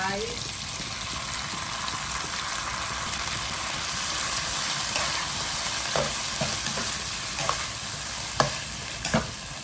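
Chili paste and canned fish stir-frying in a hot pan, a continuous loud sizzle and hiss with the scrape and clink of a spatula stirring throughout, close up.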